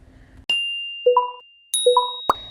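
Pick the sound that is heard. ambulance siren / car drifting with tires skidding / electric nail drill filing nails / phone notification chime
phone notification chime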